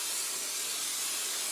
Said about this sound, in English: I'm going to go ahead and spray my pie pan